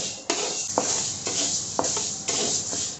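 Urad dal roasting in a pan over low gas, a steady dry sizzling hiss broken by soft scraping stirs every second or so, close and even throughout.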